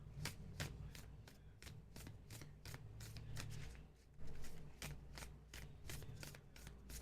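Tarot cards shuffled close by in a quiet room, a steady run of crisp papery riffles and snaps repeating through the stretch, soft overall with a slightly louder burst near the middle.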